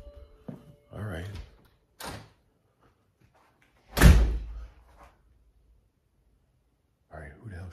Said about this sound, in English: It sounded like the door going to the garage had opened and shut.